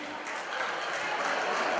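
Audience at a Krajina folk gathering in Rheinfelden, Switzerland, applauding a band; dense, steady clapping close by, swelling slightly over two seconds.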